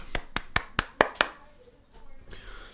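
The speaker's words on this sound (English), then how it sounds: "Let's give a little round of applause" Six sharp hand claps in a quick, even series, fairly close, followed by faint background noise and a short murmur.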